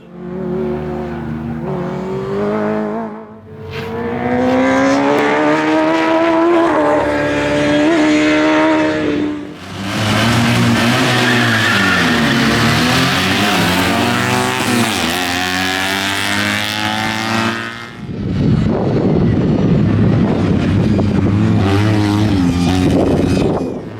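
Small Fiat 126p (Maluch) car engines drone and rev loudly and steadily on a parade track, pitch rising and falling as they accelerate past, with brief dips between passes.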